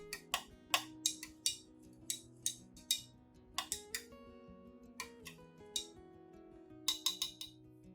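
An orchid fertilizer mixture is stirred in a container, producing a quick, irregular run of light clinks and ticks from the utensil tapping the sides, quiet and close, with no voices.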